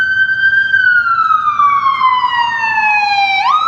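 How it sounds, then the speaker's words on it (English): A loud, close ambulance siren on a city street in Binghamton, New York, sweeping slowly downward in pitch in a long wail before jumping sharply back up. "it is an ambulance, okay."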